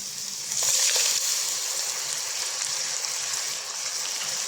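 Onion sizzles steadily in hot oil with Kashmiri dried chili and ginger paste added, a loud, continuous close hiss that swells briefly near the start.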